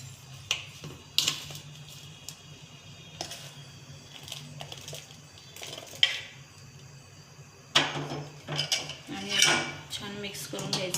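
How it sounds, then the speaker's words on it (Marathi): A spoon scrapes and clinks against a metal pan as hot milk is stirred into a cardamom barfi mixture, with irregular sharp taps and clatters, some in quick clusters, close and fairly loud, no talk. "आणि आता आपण गरम दूध सोडून घेऊया. अगदी थोडं हलवून घ्यायचं आहे आपल्याला."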